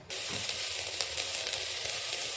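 Eggplant slices fry inside a rice cooker, a soft, continuous sizzle with faint crackles running evenly throughout.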